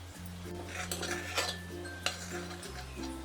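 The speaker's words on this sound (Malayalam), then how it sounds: "പാട കെട്ടാതിരിക്കാൻ നമ്മളിങ്ങനെ ഇളക്കി കൊടുത്തുകൊണ്ടിരിക്കണം" A spoon clinks and scrapes around a pot as vermicelli payasam is stirred after cardamom powder is added, with a low hum underneath and a few sharper metallic taps; no talking.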